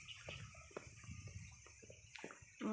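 A small amount of water trickles and flows outdoors along a walking path in Awitan, a soft steady wash with a few brief splashy accents, fairly faint and close.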